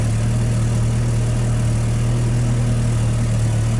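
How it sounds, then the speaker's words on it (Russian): A VW Passat B3 engine runs at a steady, even idle nearby, a constant low hum with no revving evident in this short stretch. "мы завели машину, обороты у нас стоят устойчиво"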